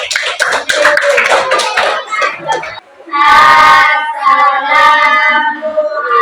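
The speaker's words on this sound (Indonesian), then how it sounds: "Kasih tepuk tangan untuk kelompok 1." Schoolchildren clap for the first group at a school session, a dense patter of small hands up close, then a brief pause before lively children's voices and cheering take over.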